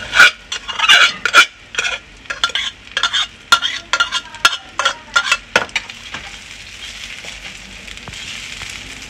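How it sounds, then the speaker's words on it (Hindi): Leftover rice frying in a pan, with repeated loud scraping strokes of a spatula over a soft sizzle that settles into a steady hiss toward the end. "ये शाम का राइस बचा था, वही मैं फ्राई करने वाली"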